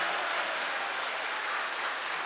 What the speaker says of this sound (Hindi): एक बार जोरदार तालियां बिहार अंजुमन के लिए,